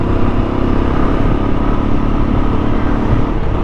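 A Royal Enfield Classic 350 motorcycle accelerates hard through its gears, giving a loud, dense, continuous thumping engine roar close by with no clear breaks.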